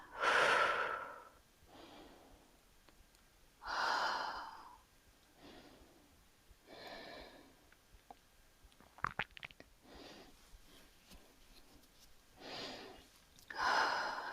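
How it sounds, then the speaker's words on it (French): Slow, deliberate breaths in and out during a beginner yoga session holding triangle pose, with about five soft breath cycles spaced evenly a few seconds apart, close and quiet. "On inspire et on expire, on appuie fort sur le pied droit et on se relève."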